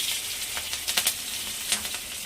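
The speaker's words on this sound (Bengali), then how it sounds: "এবার আমি সামান্য পরিমাণে তেল দিয়েছি, দিয়ে দেব আমি দুটো কাঁচা লঙ্কা চেরা আর সামান্য একটু কালো জিরে" Slit green chillies and nigella seeds sizzle in a small amount of hot oil, a close, steady hiss with a few brief crackling spits.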